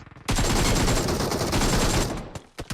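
Loud automatic gunfire in PUBG Mobile rattles in one sustained rapid burst lasting about two seconds, followed by a few scattered single shots.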